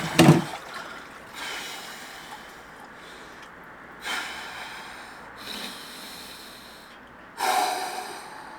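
Sharp, loud gasping breaths and snorts come from a person plunging into cold water of about 3 degrees, followed by several slower, heavy breaths spaced a couple of seconds apart, with light water sounds between.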